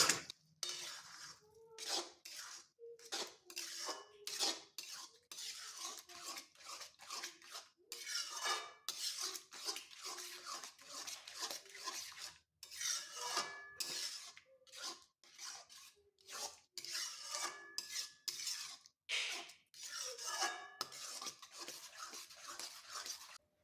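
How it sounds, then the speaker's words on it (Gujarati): A spoon clanks and scrapes repeatedly against a metal pan while mashed vegetables and spices are mixed for pav bhaji, in a steady, busy rhythm of close metallic taps and scrapes with no talk. "તો મેશ કરેલા શાકભાજી ઉમેર્યા પછી આપણે બધું જ મિક્સ કરી લઈશું"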